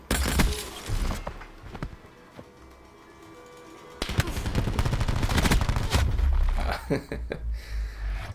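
Heatwave Ultra weapon in a video game firing in two-shot bursts: loud, sharp reports come in clustered volleys with short gaps, then a dense stretch of rapid shots with rumbling low-end booms.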